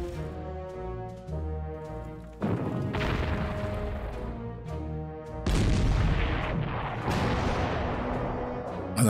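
Heavy booms and crashing impacts as a Pershing tank is destroyed in Panzer Corps, two loud blasts with long rumbling decays over a tonal musical background.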